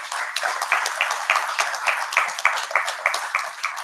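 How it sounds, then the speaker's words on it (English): A congregation at a lecture gives a round of applause, light and fairly sparse, with individual claps standing out in a loose, steady rhythm from a small group nearby. "so everybody, please give him a round of applause"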